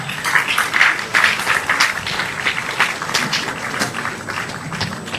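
A crowd gives a resounding round of applause for Honorable Kennedy Japan, dense clapping at moderate loudness that swells early and then tapers slightly, with no voices on top.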